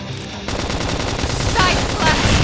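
Rapid automatic gunfire bursts from the video game Xenoblade Chronicles X, loud and continuous amid battle effects, with game voices shouting over the shooting.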